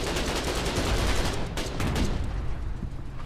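Gunfire in the war game Foxhole: dense, continuous volleys of shots and rattling bursts, loud and close, with no talking over them.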